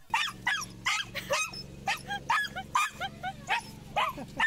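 An excited rescue dog barks in rapid, loud, close bursts, mixing high yips and whimpers with a little growling in an almost continuous frantic run.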